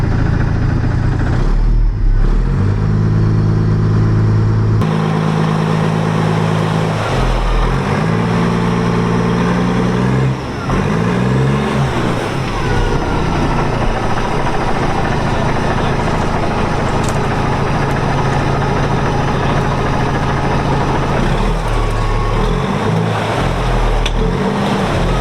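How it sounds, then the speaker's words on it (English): An FV180 Combat Engineering Tractor runs its engine hard while skid steering and spinning on locked tracks, a loud continuous low roar with shifting pitch and revving surges, steady and close throughout with no talk. "We've got a skid steer both ways"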